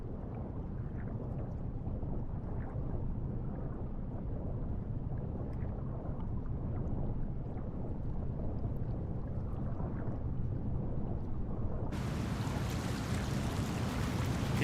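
A waterfall in the dinosaur park game Jurassic World Evolution 2 rushes in a steady, dense roar that stays loud and unbroken throughout, with no voices over it.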